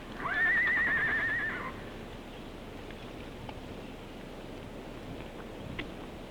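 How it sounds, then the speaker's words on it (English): A horse whinnies loudly once at the start of the clip, out in open country where soil was being stripped from above brown coal at a power station site, then only a faint outdoor hush remains. "Men and horses were stripping away the soil above the brown coal"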